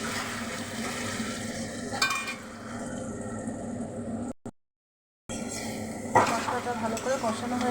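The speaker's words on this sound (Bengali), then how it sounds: "জিরে গুঁড়োটা দিয়ে ভালো করে কষিয়ে নেব" Spices with cumin powder sizzle and scrape as they are sautéed in a pan, a steady, fairly loud frying hiss with occasional stirring knocks, broken by a brief total silence midway before the sizzling resumes.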